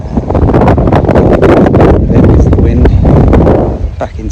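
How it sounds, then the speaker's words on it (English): Wind gusts across a lake shore while tench fishing, a dense continuous rush buffeting the microphone with steady loudness, some speech mixed underneath. "There's the wind."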